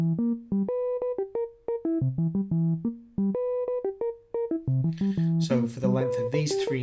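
An Arturia Buchla Easel V software synthesizer plays a short repeating three-note sequence of crisp, plucky tones that rise and fall in pitch, with the sound turning brighter and noisier near the end.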